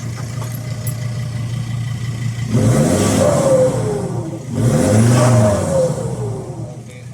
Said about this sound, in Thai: เร่งให้ฟังทีครับดูที่ท่อครับ